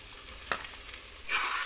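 Chili, tomato and cut papaya going into a hot pan, a soft sizzle with a single clink near the start and a brighter burst of frying as the pieces hit the oil.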